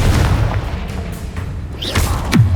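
In the Hogwarts Legacy video game, a Confringo fire spell blasts with deep, booming low rumbles and a sharp burst near the end, loud and close, with no speech.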